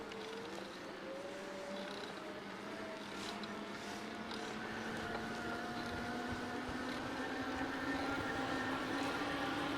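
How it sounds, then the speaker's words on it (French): A Fafrees F20 Pro electric bike's assist motor gives off a steady whine that climbs in pitch as the bike gathers speed, carried under continuous wind and road noise with no one talking. "Je m'aide un peu du moteur pour prendre de la vitesse."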